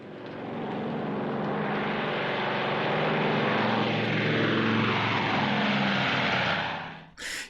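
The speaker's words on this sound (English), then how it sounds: "Tell that bomber to take off." A bomber aircraft from a TV show roars loudly and steadily as it takes off, its broad engine rumble swelling and holding, then cutting off near the end with a brief short burst after.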